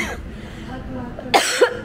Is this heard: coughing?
yes